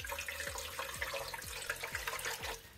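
Hot water pours steadily into a cooking pot that already holds cabbage leaves, a continuous splashing rush with a few soft, regular thuds underneath. No one speaks.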